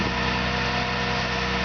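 A GMC TopKick C7500 4x4 bucket truck's diesel engine runs in a loud, steady, low droning idle, close by and uninterrupted.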